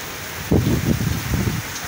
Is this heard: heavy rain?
yes